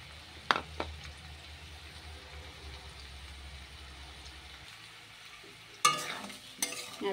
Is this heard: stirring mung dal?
yes